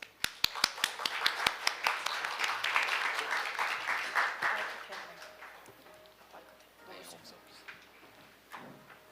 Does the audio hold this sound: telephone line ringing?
no